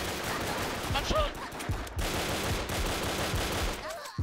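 Rapid gunfire in the blocky first-person shooter Brickforce, with several sharp shots in bursts over dense game noise and music, plus a faint bit of voice.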